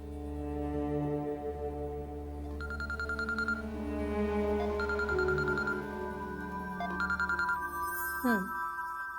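A phone rings indoors with repeated electronic ringtone bursts over a sustained musical background drone, moderately loud and close.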